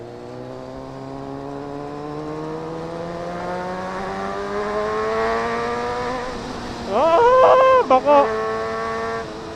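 A 2007 Honda CBR600RR sport bike in a tunnel, its engine pitch climbing steadily before sharp revving blips as it downshifts, echoing and close, with brief speech over it.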